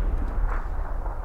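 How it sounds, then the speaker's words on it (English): Grenade blasts in the battle royale game PUBG, a dense, continuous low rumble of overlapping explosions lasting about a second with no clear gaps and no talking. "So he just chucks a bunch of grenades."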